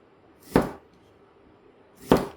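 Green onion chopped with a Chinese cleaver on a board, two separate sharp chops about a second and a half apart, close and distinct against a quiet background.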